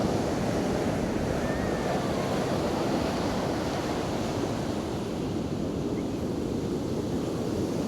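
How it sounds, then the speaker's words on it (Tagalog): Heavy surf pounding a beach in Newcastle, New South Wales, a steady broadband roar of breaking waves mixed with wind buffeting the microphone, continuous and loud throughout. "Grabe yung mga waves."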